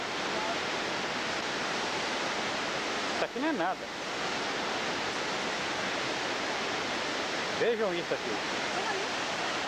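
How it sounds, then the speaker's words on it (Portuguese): Cachoeira do Gato, a tall waterfall on Ilhabela, roars as a constant, dense rush of falling water close by, while someone speaks briefly twice over it. "Cachoeira do Gato."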